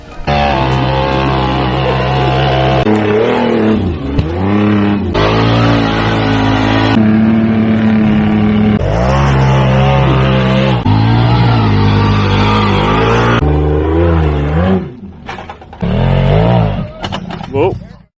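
A Wildcat side-by-side UTV drives along a trail at Camp Carson, its engine loud and close, revving up and easing off repeatedly, with voices talking over it.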